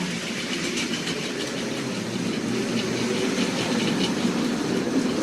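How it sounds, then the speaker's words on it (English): An OO gauge model train hauls a string of old wagons with Simplex couplings, giving a steady close rumbling whir that holds at an even level throughout, with no voices. "he was getting the train running behind him"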